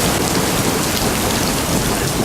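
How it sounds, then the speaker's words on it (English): Steady, heavy rain pours down in a dense, unbroken roar during a thunderstorm, with low rumbling thunder woven through the constant wash of falling water. "We did our first music day, and there was a storm."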